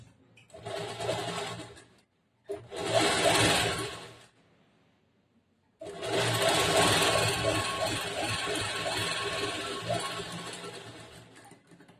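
Sewing machine stitching the border of a lined blouse, running in three bursts: two short runs of steady rapid whirring with a pause between them, then a longer continuous run close by.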